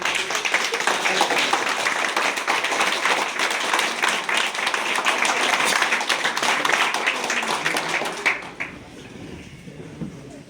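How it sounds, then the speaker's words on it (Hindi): Dense, steady clapping from a large standing audience at a motivational meeting in Mohan Road, Lucknow, filling the room loudly for about eight seconds before dropping away to a quieter tail. "जबरदस्त खड़े होकर तालियां चाहेंगे पुराने मेहमानों का"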